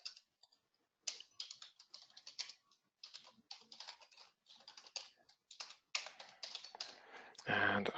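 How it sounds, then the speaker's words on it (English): A password being typed on a computer keyboard, heard as close bursts of quick, light key taps with short pauses between runs, ending in a louder burst of noise. "So I'm just going to type in the test one that we have here."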